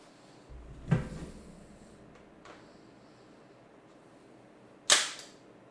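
A CHS polymer mid-cap 120-round magazine is pushed into a Specna Arms SA-H02 ONE airsoft replica, giving two sharp plastic clacks about four seconds apart against a quiet background.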